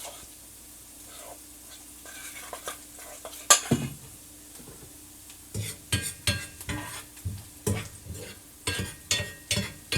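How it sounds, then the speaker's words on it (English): A tuna patty mixture with one medium to large egg is stirred in a bowl, with near clinks and scrapes: sparse at first, then a steady run of regular stirring strokes in the second half, with no talk. "Stir that up."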